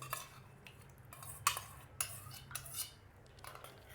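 A spoon stirs whisked curd into a vessel of milk, giving faint, quiet clinks and taps of metal against the container in an irregular rhythm.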